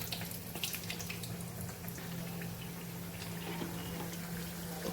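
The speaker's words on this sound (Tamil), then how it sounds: "ஒரு சைடு நல்லா ஃப்ரை ஆகிடுச்சு. இன்னொரு சைடு திருப்பி வைக்கலாம்." Banana flower vada frying in hot oil, a continuous close sizzling and bubbling hiss that stays steady and fairly loud throughout, with no talking.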